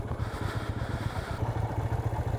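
A Honda CB350 motorcycle engine idles close by with a steady, pulsing low thump and a faint clatter, with no voices.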